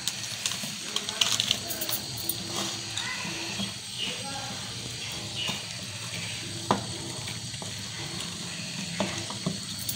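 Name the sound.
water being added and mixed into spice paste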